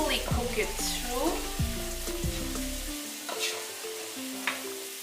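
Coriander and cumin powder frying in a pan, a close, soft sizzle with scraping stirs and a few clinks of a utensil; no talk.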